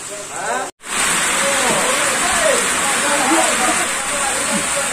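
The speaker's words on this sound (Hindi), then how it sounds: "इन्नी बारिश हो रही है" Heavy rain pours in a dense, steady hiss after a brief cut, with a voice talking faintly underneath.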